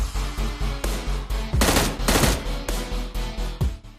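Automatic gunfire in PUBG on the Livik map: a steady, rapid burst of shots repeating in even rhythm, with two heavier, denser volleys in the middle, loud and close, no talking.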